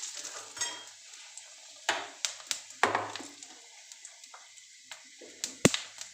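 Whole spices — bay leaf, black and green cardamom, cinnamon, peppercorns and three dried red chillies — crackling in hot oil in a kadai, with a soft sizzle and sharp clinks and scrapes of a spoon against the pan, close and fairly quiet.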